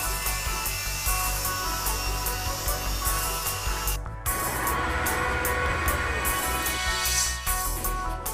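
Belt grinder with active force control running a Trizact abrasive belt, a continuous loud harsh rasping hiss of metal grinding with a brief drop partway through and slight pulsing in level.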